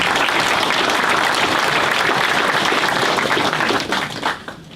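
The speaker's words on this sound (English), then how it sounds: "So let's give them a big applause." A room of donors and guests at a sports performance center groundbreaking ceremony breaks into loud, sustained applause, steady throughout before thinning out at the end.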